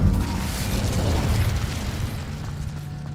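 An Incendio fire spell erupts in Hogwarts Legacy with a loud whooshing burst that rumbles on and fades over a few seconds, with no talking.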